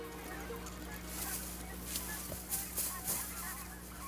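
Canada and white-fronted geese honk at a distance in a few scattered calls over a steady low hum of wind or background noise.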